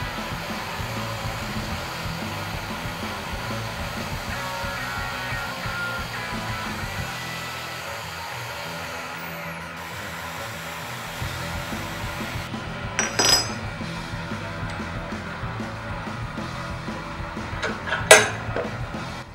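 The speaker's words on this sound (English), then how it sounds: "use my trusty drill with a bit of sandpaper wrapped around a bar" A handheld electric drill spins a strip of sandpaper wrapped around a bar, scuffing mill scale off steel tubing for a swingarm on a gasser project; a steady whirring grind runs throughout, broken near the end by a few sharp clinks.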